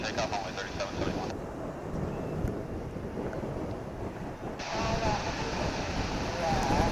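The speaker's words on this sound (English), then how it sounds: "It's an Embraer 175." An American Eagle Embraer 175 airliner takes off at DFW Airport, a steady loud jet roar with wind buffeting the microphone and a voice talking over it.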